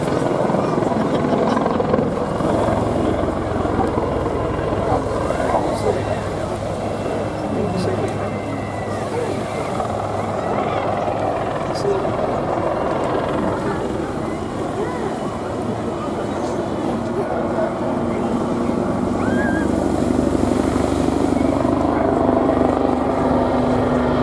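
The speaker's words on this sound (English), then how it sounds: "Next manoeuvre is Chris's favourite, the biggest wing over the show right here in front of you, utilising almost 90 degrees along the bank" Aerobatic aircraft flying a steeply banked wingover at the Torbay Airshow 2019, a loud continuous engine drone that swells and fades slightly as it turns, under a commentator's running talk.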